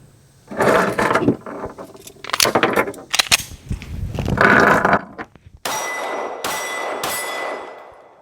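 Several sharp pistol shots crack at close range from a Canik TTI and CZ P-10C Ported, the later hits ringing with a bright metallic clang as they strike the target.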